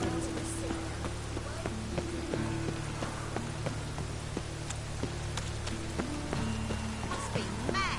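Steady rain patters on surfaces in The Witcher 3: Wild Hunt, with scattered drips and faint footsteps or movement sounds mixed in underneath.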